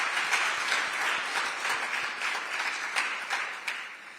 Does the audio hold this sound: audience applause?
yes